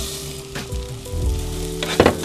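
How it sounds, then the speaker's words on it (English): Lentils and spices sizzle in a hot pan for an Ethiopian dish as vegetable broth goes in, a close, lively crackle with a few sharp hisses and clinks near the end. "and then we're going to add our vegetable broth"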